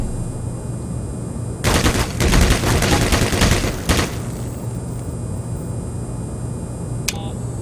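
Gunfire in the Black Mesa video game: a loud rapid burst of shots lasting about two seconds, then quieter game ambience with a brief sharp click near the end.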